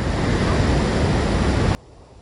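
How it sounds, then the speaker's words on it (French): Loud ocean surf and heavy waves crash near the shore in a steady broadband roar, then cut abruptly to a much quieter muffled hush, simulating active noise cancellation on LG Tone Free FN7 wireless earbuds. "tester la réduction de bruit active près de l'océan, où là, avec les gros bruits de vagues"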